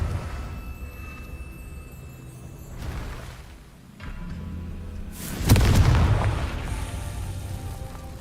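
Confringo blast spell erupting in the Hogwarts Legacy video game: a deep booming burst lands midway, following a lower rumble, then a sustained roar lingers over a steady background bed.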